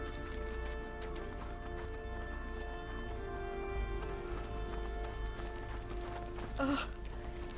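Steady clip-clop of a horse's hooves in the video game A Plague Tale: Innocence, under a continuous low rumble and ambient drone, with a brief sharper burst near the end.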